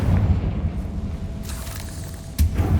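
Confringo fire spell blasts in Hogwarts Legacy, heard as loud rumbling booms with a sharp burst near the end, dense and close over continuous game ambience.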